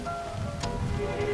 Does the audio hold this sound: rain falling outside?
yes